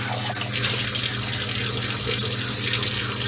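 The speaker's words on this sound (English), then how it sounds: "I always like to give it a quick rinse immediately" A Nespresso Aeroccino milk frother jug rinsed under a kitchen tap, with loud, steady running water close up filling the whole moment without a break.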